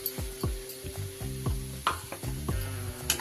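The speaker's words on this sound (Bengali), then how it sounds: "আর একটু জল এতে অ্যাড করব।" Soft, continuous sizzle from a hot pan after water is added to a spice paste for a coconut-poppy seed pointed gourd dish, with repeated light scraping and clinking stirs in an even rhythm, close and quiet.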